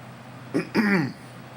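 A single close throat clearing, a short grunt followed by a longer rasping rumble, over a steady background hiss.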